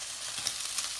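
Garlic hits hot oil with browned chicken for Thai fried rice, giving a steady close sizzle with faint stirring clicks throughout.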